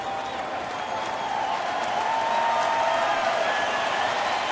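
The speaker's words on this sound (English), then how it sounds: "Now the crowd's starting to make some noise here." Baseball stadium crowd at a Mariners at Tigers game in Detroit, a broad steady roar that swells slightly toward the end, with no one speaking.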